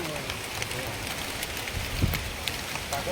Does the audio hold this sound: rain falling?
yes